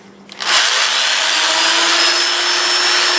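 Apple wood bowl on a lathe being sanded with Scotch-Brite mounted on a Velcro sanding pad, a loud, steady, close whirring hiss that starts abruptly and holds without pause.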